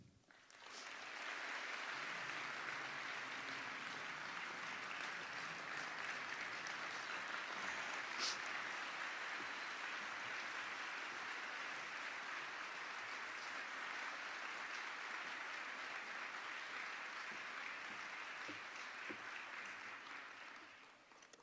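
Sustained audience applause following a county mayor's State of the Community address, a dense, even wash of clapping from a large crowd that rises quickly and continues steadily for about twenty seconds with faint background voices.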